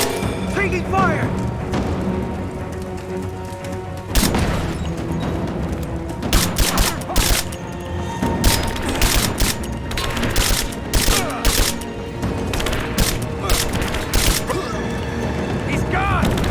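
Heavy gunfire in Rise of the Tomb Raider: sharp, loud bursts of shots crack in rapid clusters over a rumbling combat background, while soldiers' voices shout between the volleys.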